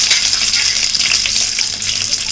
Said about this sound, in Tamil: கொஞ்சமாக கடுகு, கருவேப்பிலை அதை போட்டு தாளித்து